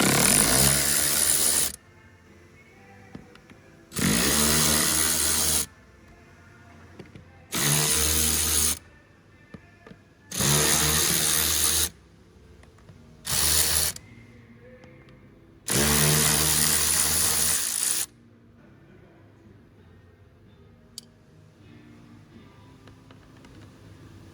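A power drill driver backs screws out of the front left interior door panel trim on a Renault Koleos, six loud whirring bursts a few seconds each separated by quiet gaps.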